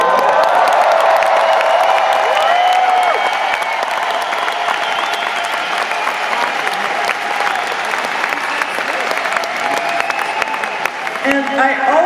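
A large concert crowd in Cologne applauds and cheers, loud dense clapping with scattered whoops that holds steady for the whole stretch.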